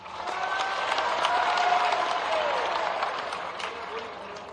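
A large crowd applauds at a political convention of panchayat secretaries held at Dussehra Maidan in Bhopal, a sustained wash of clapping that swells and slowly fades.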